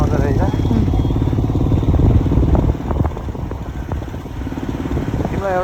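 A scooter engine runs with a steady, buzzing putter at close range, holding an even level under a person talking throughout.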